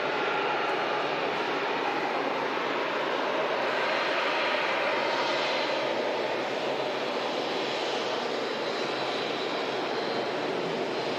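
TUI Boeing 787 Dreamliner passenger jet taxiing past at Manchester Airport, a loud, continuous engine roar and whine that holds steady with slight swells throughout.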